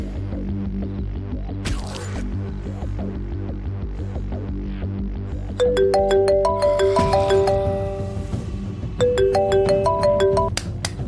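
A phone rings on and on without being answered, its repeating electronic tone phrases rising over a low steady hum in a home, with no talking.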